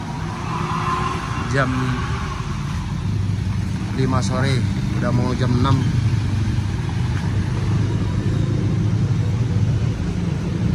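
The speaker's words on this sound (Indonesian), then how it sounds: "Ini anak-anak lagi mau masukin mobil" Car engine idling and rumbling steadily as it is driven into a motorcycle showroom at closing time, a continuous low drone under casual speech throughout.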